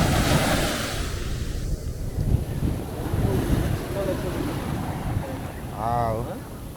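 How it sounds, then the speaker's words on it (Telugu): Ocean waves wash onto Alleppey beach in a continuous, heavy roar thickened by wind buffeting the microphone, with a brief voice rising near the end. "చూడండి అలలు ఎట్లున్నాయో"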